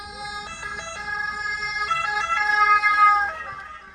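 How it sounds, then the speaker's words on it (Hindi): An ambulance siren wails on the road nearby in a repeating two-tone pattern, growing louder as it passes and then fading, with faint traffic rumble underneath. "साइड हो जाए ना एम्बुलेंस, सही है।"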